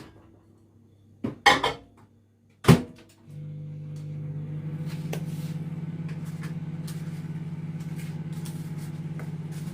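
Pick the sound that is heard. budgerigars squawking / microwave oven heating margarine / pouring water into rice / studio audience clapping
microwave oven heating margarine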